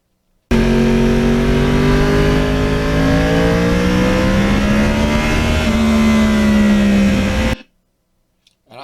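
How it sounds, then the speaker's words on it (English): A 2009 Yamaha R1 sport motorcycle with a cross-plane engine revs hard in a long, loud, sustained pull, its pitch climbing and then dipping slightly before cutting off abruptly. "Opening that throttle and feeling that cross-plane engine."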